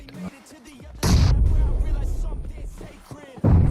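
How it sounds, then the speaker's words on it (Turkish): Explosive booms from grenades in the PUBG Mobile battle game, two loud bursts with a long rumbling tail between them, while players talk over the action. "oraya yaklaşma bomba atıyorlar"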